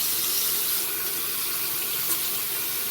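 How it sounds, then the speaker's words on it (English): Shaving brush rinsed under a running tap, a loud, steady rush of water into a sink throughout, with no voice over it. "Rinsing out the brush."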